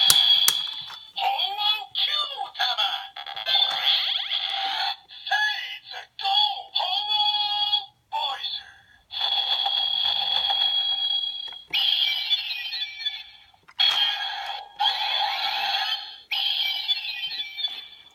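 Bursts of bright electronic beeps, chirps and synthesized effects from a Kyuranger Seiza Blaster toy play in quick succession, fairly loud and close with brief gaps between them.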